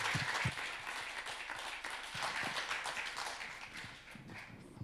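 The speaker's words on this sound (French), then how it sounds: "on applaudit" Steady applause from an audience at an awards ceremony, a dense, even clatter of many hands with a few sharper nearby claps, sustained for about five seconds with no voices over it.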